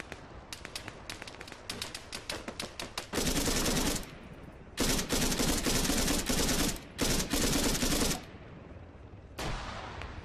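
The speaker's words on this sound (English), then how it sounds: "I'm going to try and shoot him from these rocks." Video game gunfire in Arma 3: rapid bursts of automatic fire, first a quick rattle of individual shots, then several long, loud sustained volleys separated by short pauses.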